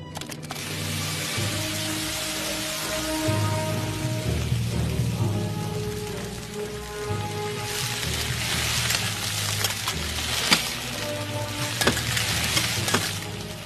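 Fresh octopus sizzling and frying on a hot teppanyaki griddle, a continuous crackling hiss that swells and pops, with occasional sharper bursts and utensil clicks near the end.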